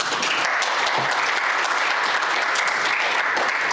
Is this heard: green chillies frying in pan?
no